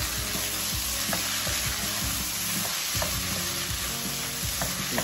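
Rice with onions, shrimp and curry frying in a pan, a loud, dense, continuous sizzle with repeated stirring knocks and scrapes close by, with no voices.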